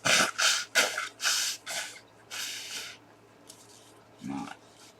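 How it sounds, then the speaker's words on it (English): Several forceful, hissy bursts of breath push through the nose in quick succession, with short pauses between and one softer snort near the end. "Excuse me, I'm going to blow my nose."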